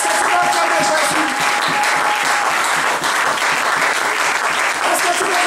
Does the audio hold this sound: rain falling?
no